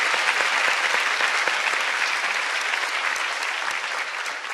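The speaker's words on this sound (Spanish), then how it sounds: "Gran aplauso." Steady, dense applause from a crowd at a women's peace forum in Colombia, loud and continuous throughout with no talking over it.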